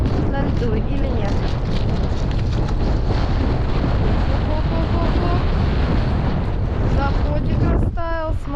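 Strong wind buffeting the microphone over a frozen lake on a winter fishing trip, a loud continuous roaring rumble throughout with no pauses.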